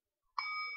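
A bell is struck once during a Buddhist dharma teaching. It rings with a single clear, close ding that settles into a long, steady ringing tone after a quiet start.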